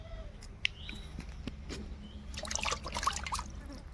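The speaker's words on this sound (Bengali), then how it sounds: "মাছ কাটা কমপ্লিট আবার খুব সুন্দরভাবে ধুয়ে নেব মাছগুলোকে" Pabda fish are rinsed in water with soft splashes and trickling close by, a few sharp clinks, and a brief burst of louder sloshing near the end.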